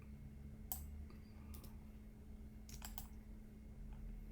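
Computer keyboard keys are pressed in a 3D modelling session, giving a few sparse, sharp clicks and short bursts of taps over a steady low hum, faint and close.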